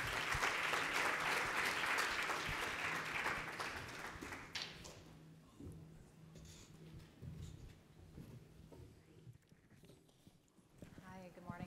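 An audience applauds to welcome a speaker named Amanda at a conference, with dense clapping for about four seconds before it fades into scattered claps and quiet room noise.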